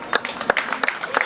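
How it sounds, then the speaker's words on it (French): Guests at a civil wedding ceremony break into a short, sparse patter of clapping, a handful of distinct sharp claps close by with a voice briefly audible among them. "Applaudissez."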